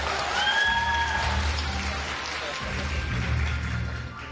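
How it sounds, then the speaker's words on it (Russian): Audience at a cosplay festival applauding, sustained dense clapping with some cheers and whistles over a low hall rumble, easing off slightly at the end. "Аплодисменты Рил!"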